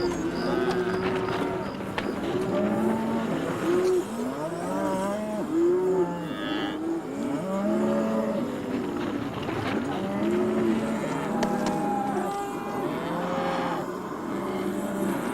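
Cattle on a large Hawaiian ranch moo again and again in overlapping low calls, a loud herd chorus close by with occasional bird sounds behind.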